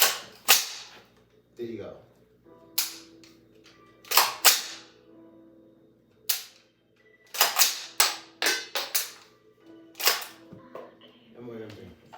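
AR-15 rifle shots, a series of sharp loud cracks spaced irregularly across the clip, some in quick pairs, with brief speech between them.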